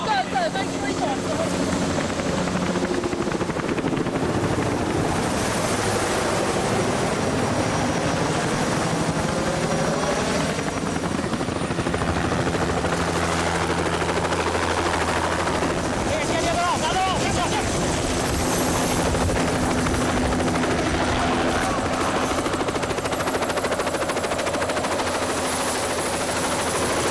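A military helicopter, loud and close, roars with steady rotor thump and engine whine throughout as a jungle hostage is loaded aboard, with shouted voices partly buried under the noise.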